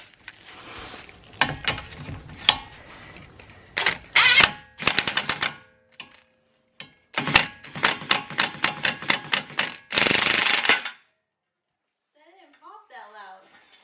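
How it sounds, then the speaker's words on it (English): An air gun hammers a ball joint separator in a garage while installing angle mods, firing in rapid rattling bursts with pauses between them, loud and close, with voices talking around the bursts. "So Rizza doesn't like the poppy noises from the ball joint separator"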